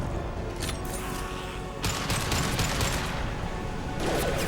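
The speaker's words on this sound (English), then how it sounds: "Firing concussive shot!" Concussive shot ability firing in Mass Effect Legendary Edition, several sharp blasts and impacts standing out from a loud, continuous combat din of gunfire and clatter.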